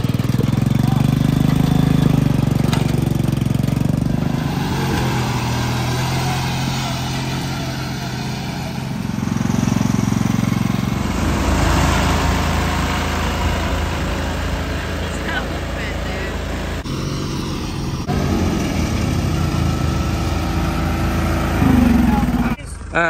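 Small lawn mower engines idle and putter nearby at a mower race, a steady low rumble that rises and falls, with people talking over it.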